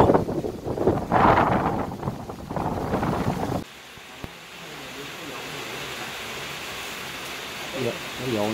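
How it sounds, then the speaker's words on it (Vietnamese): Gusty stormy wind ahead of an approaching storm rushes across an outdoor microphone, a loud broadband roar. Someone talks over it at first, then the wind carries on alone, steady and buffeting. "quá trời giông gió luôn"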